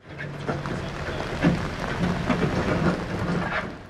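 Heavy rain pours steadily during flooding in Sulaymaniyah, with low rumbles of thunder rolling underneath a dense, continuous wash of falling water.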